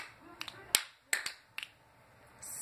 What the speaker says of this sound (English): then you snap out at the end